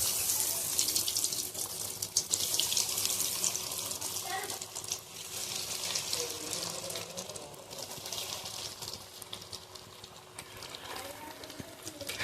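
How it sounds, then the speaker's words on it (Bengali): Vegetable chops fry in plenty of hot refined oil, giving a steady, dense sizzle and crackle that runs unbroken from start to finish at moderate loudness. "গরম হয়ে গেছে, এবার আমি চপগুলোকে ছেড়ে দেবো।"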